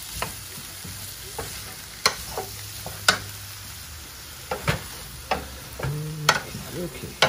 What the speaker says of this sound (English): Let's get some garlic in there. Let's cook that, toss that around.